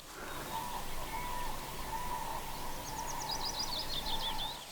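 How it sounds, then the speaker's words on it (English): Distant cranes call at dawn in Sweden with rolling, trumpeting notes over a steady outdoor hum, joined by faint chirping birds late in the clip. "that's the sound of the cranes."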